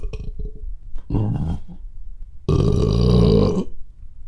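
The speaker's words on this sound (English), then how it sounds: "I found this recording of what a Hodag apparently sounds like, and it makes me laugh because it sounds like a adult man burping" A recorded Hodag call plays as two deep, gurgling, croaking bursts like an adult man burping, a short one followed by a longer, louder one.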